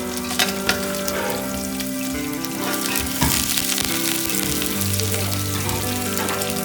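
Onion, cinnamon and cardamom fry in a pan for a chicken mandi, giving a steady, close sizzle with crackling pops throughout, without speech.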